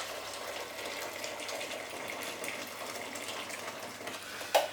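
Tap water runs steadily into a cooking pot for pasta, a continuous broadband rush with no pauses, moderately close, ending with a brief clink near the end.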